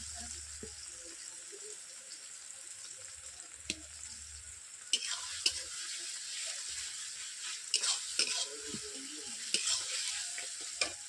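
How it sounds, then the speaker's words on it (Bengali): Browned onions and added garlic fry in a pan for a chicken curry. A low sizzle runs throughout, then a spatula scrapes and stirs in bursts, with crackling that grows busier in the second half. "পেঁয়াজগুলো ব্রাউন কালার চলে এসছে ভাজা ভাজা হয়ে গেছে এরপর দিয়ে দিয়েছি রসুন"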